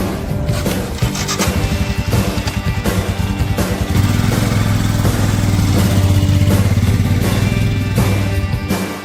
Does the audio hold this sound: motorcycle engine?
yes